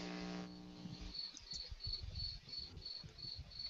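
Crickets chirp in a steady, evenly spaced run of short pulses, faint and continuous, following a brief low electrical hum at the start.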